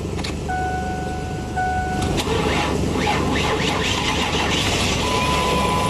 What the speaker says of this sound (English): we're going to start the engine in my van. Hopefully it'll start up